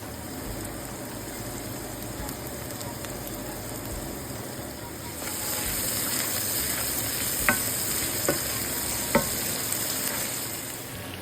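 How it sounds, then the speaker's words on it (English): Roasted garlic paste is stirred into a pot of sizzling short rib mixture, with a steady frying hiss that grows louder partway through and a few soft scrapes of the spoon. "Then stir in some roasted garlic paste."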